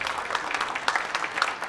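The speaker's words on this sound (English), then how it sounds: "A round of applause showing support for Diana Broderson" A round of applause at a city council meeting, showing support for Diana Broderson: steady, dense clapping from a room of people, moderately loud and close, with a few sharper individual claps standing out.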